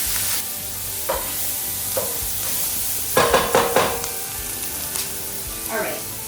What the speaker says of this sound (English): So we're gonna plop those in, nice sizzle.